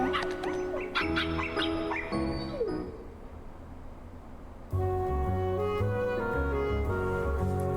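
Puppies whimpering and yipping in Kingdom Hearts Final Mix, short high cries and barks scattered over cheerful game music that drops briefly and then swells back in.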